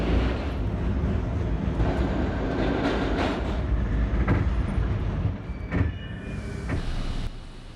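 An R32 subway train on the F line rumbles along elevated tracks, a loud, continuous roar with rattling wheel clatter, then easing slightly near the end as it slows.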